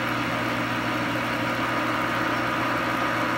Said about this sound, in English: I've sped up the lathe. I'm 360 RPM, I think, now. Cutting in both directions.